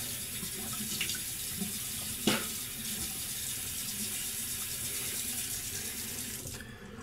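Hot water running from a tap into a sink during a shave, a quiet, steady stream with a few faint clinks and splashes and no talking.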